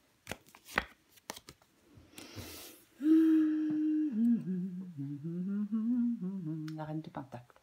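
Tarot cards are laid down on a table with a few crisp clicks and slaps at the start, followed by a brief papery shuffle, after which a voice hums or speaks.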